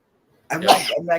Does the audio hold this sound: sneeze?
yes